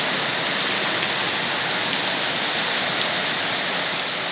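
Heavy rain pours down steadily, a dense, loud, close hiss of drops striking surfaces with no pauses and no voices.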